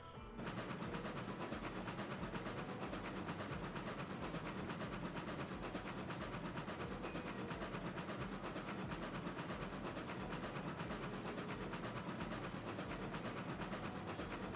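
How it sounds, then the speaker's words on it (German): Steam locomotive running in the video game Railroads Online, a steady, loud rolling rumble with continuous rail clatter that holds unbroken for the whole stretch. "Hier ist ja die Dampflok, die gerade fährt."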